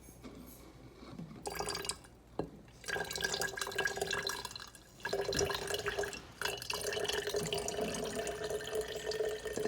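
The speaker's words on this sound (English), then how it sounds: "we need to put the water with colorant to the jar" Water mixed with colorant trickles and splashes into a jar in uneven bursts, pausing briefly between pours, steady and fairly close with no talking.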